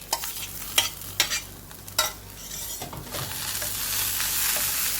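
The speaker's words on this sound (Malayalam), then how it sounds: "നമുക്ക് ഇതിലോട്ട് വേവിച്ച് വെച്ച ബീറ്റ്റൂട്ട് ഇട്ട് കൊടുക്കാം" Cooked beetroot and coconut are stirred in a frying pan for a South Indian beetroot thoran. A few sharp scraping strokes give way to a steady, growing sizzle.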